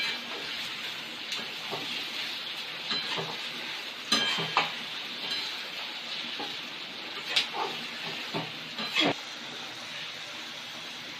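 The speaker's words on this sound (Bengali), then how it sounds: "এটাকে এবার ভালো করে একটু আগে নেড়ে নেব।" Soya chunks with chopped garlic stirred in a frying pan for soya chilli, a soft steady sizzle with scattered spatula scrapes and knocks against the pan, no talking.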